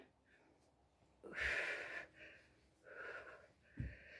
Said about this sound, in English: I'm breathing.